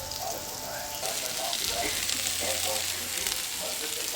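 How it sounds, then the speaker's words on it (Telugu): Bitter gourd sizzling and being stirred in a steel pan, a steady close crackling hiss with soft scraping strokes, growing slightly louder partway through. "స్టీల్ కదండి, తొందరగా మాడిపోతుంది, అందుకని మెల్లిగా వేస్తూ కలుపుతున్నాను తొందరగా."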